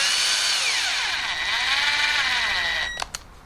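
Power drill driving screws into a bookcase strip set in a rebated groove, a steady close whine held for about three seconds that winds down, followed by a couple of clicks.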